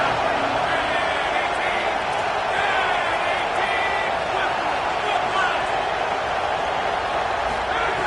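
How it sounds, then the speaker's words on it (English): Football stadium crowd roaring ahead of a third down in an Ole Miss versus LSU game, a dense sustained wall of cheering with a commentator talking over it. "hotty toddy, gosh almighty, this crowd is ready."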